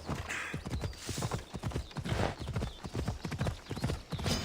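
A horse gallops in Assassin's Creed Odyssey, its hooves pounding in a quick, steady rhythm that stays close and clear throughout.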